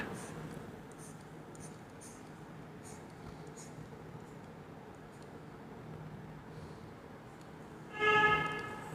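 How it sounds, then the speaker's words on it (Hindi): A marker or chalk scratching and erasing numbers on a board during a maths lesson, with faint repeated strokes throughout and a louder burst of rubbing near the end, over quiet room noise. "ये हम इरेज करके यहाँ लिख देते हैं 88"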